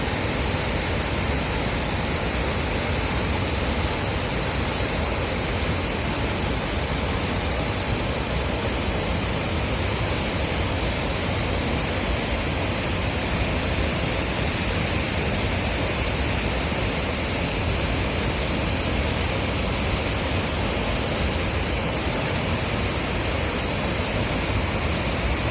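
Water released from the Kansavati dam rushes in a loud, unbroken roar that stays steady and dense throughout, with no other sounds standing out.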